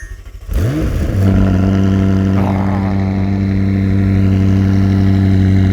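A McLaren 600LT supercar engine fires up with a sharp rising rev, then settles into a loud, deep, rumbling idle that continues steadily.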